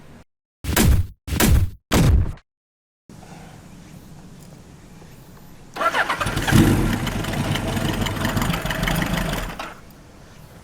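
An old Japanese-made motorcycle engine is kicked over in three short, loud bursts, then settles into a quiet idle. After a few seconds it swells into a louder, rough, steady running note that continues until near the end.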